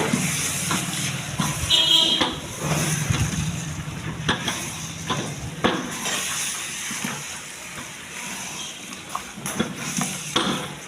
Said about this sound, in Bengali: মশলা কষানো হইতেছে